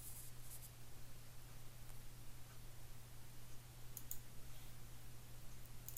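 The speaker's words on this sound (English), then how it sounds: "Click on the workbook." A few faint, sparse computer mouse clicks over a steady background hiss and low electrical hum while navigating a BioPharma Finder software workbook.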